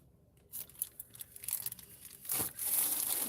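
Tarot cards handled and pulled, crisp crinkly paper rustles and slides in irregular bursts, building to a sustained brushing sweep near the end, close and fairly quiet.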